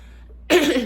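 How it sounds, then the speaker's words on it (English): A single short, harsh throat clearing close to the mic, following a brief quiet moment. "I had to clear my throat there."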